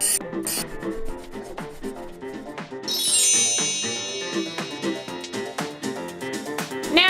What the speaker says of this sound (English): Time to sharpen the knife.